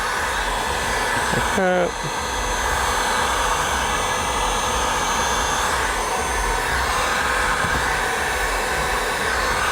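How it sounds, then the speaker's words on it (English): A heat gun blows a loud, steady airy roar close by while vinyl is shrunk onto a rear door skin of a 1996–2002 Toyota 4Runner. A brief rising whine comes near the start, and a short remark is spoken. "Heat gun, close in some of the areas"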